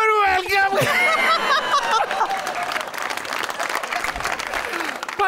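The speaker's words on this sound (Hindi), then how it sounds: "तो ढेर सारी तालियां" Studio audience on a Pakistani television comedy talk show bursting into loud, steady applause mixed with cheering and laughter, sustained throughout with music-like tones at the start.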